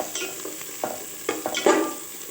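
Small onions stirred and sautéing in a hot pan for a traditional Tamil fish kuzhambu, with a soft steady sizzle broken by several scraping spoon strokes, close and moderately loud, no talking.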